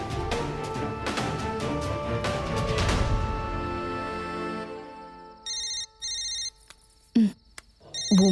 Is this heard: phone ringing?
yes